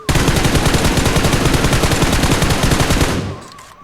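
Automatic gunfire in PUBG Mobile aimed at ghost targets: a loud, rapid, continuous burst of shots lasting about three seconds before cutting off and fading.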